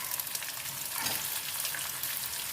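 Onions sauté in a pan with a steady, dense, close sizzle that carries on evenly, with one brief stir partway through and no talking.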